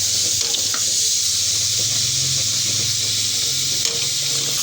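Chicken wings in a masala of red chilli, salt, turmeric and a little water sizzle and fry in a pan with steady hiss and crackle. Faint stirring noises run underneath, close up, and no one talks.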